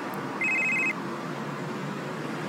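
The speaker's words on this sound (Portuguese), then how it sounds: "meu telefone tá tocando aqui" A mobile phone rings once with a short electronic tone burst over steady road and cabin noise inside a moving car.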